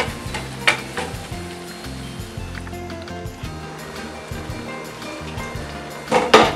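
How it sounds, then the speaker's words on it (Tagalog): Puto lanson mixture being stirred steadily as it cooks and thickens, with repeated scraping strokes and a low bubbling sizzle under a continuous rhythmic stirring noise, louder near the end. "Panay na halo pa rin ang gawin upang hindi masunog at hanggang sa lumapot"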